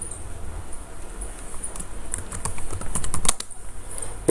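Rapid keystrokes clatter on a computer keyboard, sparse at first and then a quicker burst of taps, close and fairly loud with no talking.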